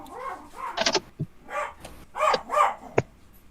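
A puppy barks and yips in short, agitated bursts, several sharp barks in an uneven rhythm with brief whimpering sounds between them, close and fairly loud.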